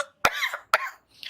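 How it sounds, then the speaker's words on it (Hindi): Two sharp deliberate coughs, evenly spaced and close to the microphone, each followed by a breathy trailing exhale, done after a breathing exercise for the lungs, with a softer throat sound at the end. "इस टाइप से आपको खांसना है"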